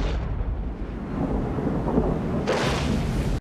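Movie thunder from a lightning strike, a loud, rumbling roar that sustains and swells briefly near the end before cutting off abruptly.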